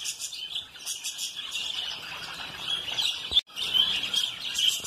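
Many parakeets chirping together in an exotic bird breeding aviary, a continuous high-pitched twittering chorus with a brief break and one sharp knock midway.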